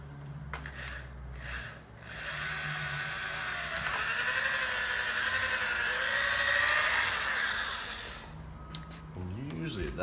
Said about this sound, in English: get to a little larger drill bit